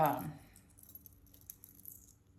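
Small metal bag charms, including a silver turnip, beads, scissors and a little silver donkey, jangle briefly as they are handled, a soft clinking burst at the start that fades into quiet rustling.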